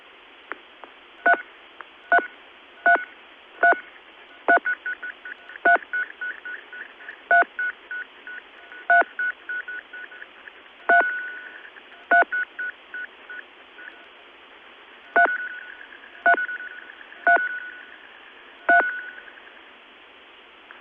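Over an early-1980s telephone line, a series of touch-tone beeps plays back through an earphone held to the mouthpiece. Each crisp tone trails into quick fading repeats from the line delay, in an uneven rhythm for about twenty seconds.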